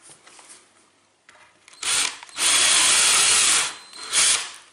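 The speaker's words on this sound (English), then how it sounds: "the other good thing about using an electric drill" An electric drill whirs in three loud, close bursts, the middle one longest, after a stretch of quieter handling and clicking.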